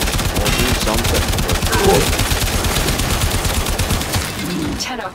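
Rapid automatic gunfire from the video game Warframe rattles loudly and almost continuously, dense bursts layered with in-game effects, briefly easing near the end.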